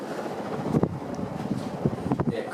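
A 1984 FASCO Heat Cycler ceiling fan with wobbling blades runs at high speed. Its airflow makes a steady rushing, buffeting whoosh close to the microphone, with faint voices underneath.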